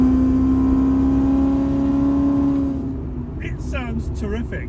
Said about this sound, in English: This exhaust is absolutely spot on